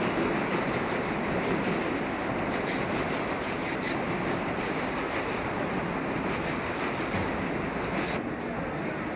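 A train runs near Shinjuku station in Tokyo, a loud continuous rumbling roar with faint rhythmic clatter and a few brief higher squeals near the end.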